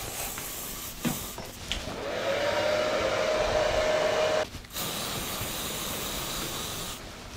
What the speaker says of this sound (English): A lot of hairspray and blow dryer.